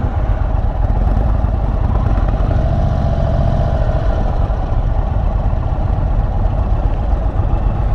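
Indian Chief motorcycle being ridden, its engine rumbling loud and steady up close with road and wind noise, a continuous low drone throughout.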